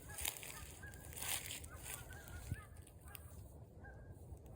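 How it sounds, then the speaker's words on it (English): Small birds honking in a barking, goose-like way on a foggy day, several short calls spread through the clip over a steady outdoor background, moderately near. "little barking birds."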